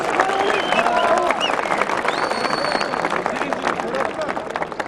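Applause and cheering from a crowd at a Turkish oil wrestling event in Kumluca as the head wrestler receives his golden belt, steady dense clapping with crowd noise and voices mixed in, loud and sustained throughout.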